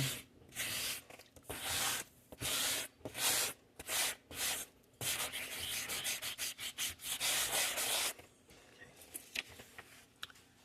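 A glossy magazine page is rubbed and roughened in quick close-up scratchy strokes, coming in bursts of varying length with short pauses, then fading to a few light scuffs.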